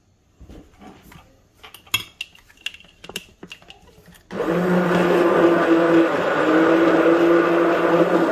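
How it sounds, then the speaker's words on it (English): A few clinks and taps of kitchen prep give way to a loud blender whirring steadily for several seconds, blending chilies for salsa. "Let's hit them with the blender."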